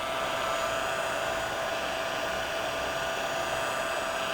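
A steady hair-dryer-style heat gun blows continuously, warming the screen of a Samsung Galaxy S9 Plus for battery removal; a loud, even broadband whoosh with a faint tonal whine, no talking.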